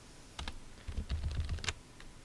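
Keyboard shortcuts typed on a computer keyboard during an Excel lesson, a quick cluster of close, crisp key clicks and presses with no talking.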